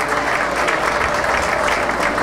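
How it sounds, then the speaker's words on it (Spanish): An audience applauds at a Micrófono de Oro 2010 medal presentation for broadcasters, dense steady clapping filling the hall from start to finish. "El aplauso, por favor."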